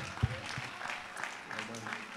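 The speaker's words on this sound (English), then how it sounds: "Can I get another round of applause for John Mark" An audience at a church service applauds in a steady, moderate patter beneath an ongoing voice that talks over it.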